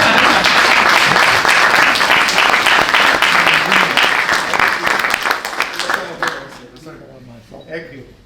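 Audience applause at a talk with Monsignor Saldanha, a dense, loud burst of clapping from a crowd that holds steady for several seconds and then thins out and fades toward the end.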